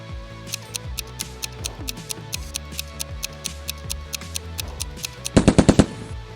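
PARAFAL rifle gunfire from the game PUBG, a string of sharp single shots at a steady pace that ends in a quick, louder burst of rapid fire.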